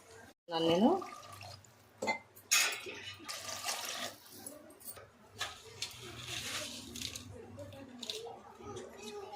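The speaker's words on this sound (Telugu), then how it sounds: "నేనైతే 3 గ్లాసులు పోస్తున్నాను." Water splashes and patters as three glasses are poured into a pot for tomato bath, a short splash near the start then steady trickling and dripping, with faint background noise.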